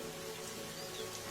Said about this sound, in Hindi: बारिशें काफी ज्यादा तेज हो रही थीं।